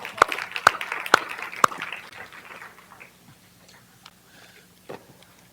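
Brief applause rises in a meeting room at a school board meeting as a presenter comes down to speak, opening with several sharp claps before thinning into scattered clapping and quiet room noise.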